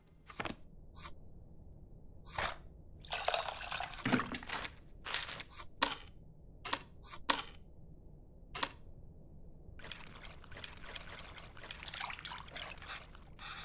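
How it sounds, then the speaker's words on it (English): Water poured repeatedly into a bowl of tamarind in the Venba cooking game, several short splashy trickles separated by quiet gaps, close and fairly soft, with no voices. "Looks like I have to mix the tamarind with the water to extract its essence multiple times. Okay, so put in water repeatedly."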